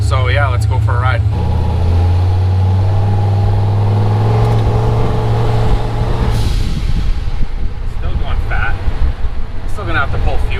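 Turbocharged 5.3-liter engine in a Chevy S10 truck, heard while driving: a steady, loud engine drone with a low hum that drops partway through into rougher road and engine rumble, with someone talking over it.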